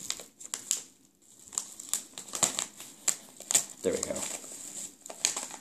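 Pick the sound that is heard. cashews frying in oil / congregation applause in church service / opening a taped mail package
opening a taped mail package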